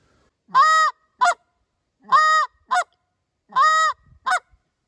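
Short reed Canada goose call played by hand: three paired honk sequences, each a longer moan-like honk followed by a quick clipped note, loud, close and evenly spaced with silence between.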